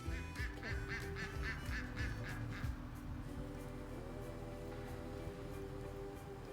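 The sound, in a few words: duck quacking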